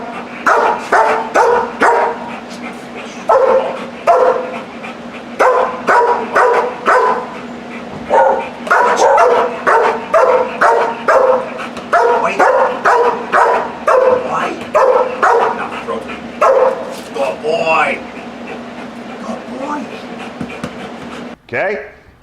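Protective dogs bark repeatedly at close range during public training that rewards barking at strangers with a ball, sharp barks coming in quick rhythmic bursts with short pauses throughout.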